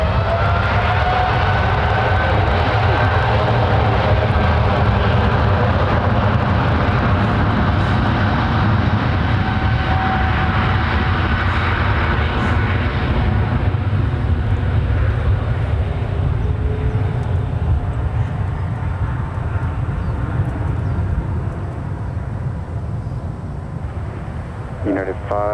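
A United airliner departing San Francisco International Airport roars as a broad, loud, sustained rumble that slowly fades, with steady talk running over it throughout.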